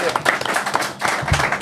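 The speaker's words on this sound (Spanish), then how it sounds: "bueno, aplauso." Audience applause and cheering at a live comedy show, a dense, steady burst of clapping lasting under two seconds with voices mixed in.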